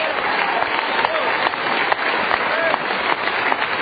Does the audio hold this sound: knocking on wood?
no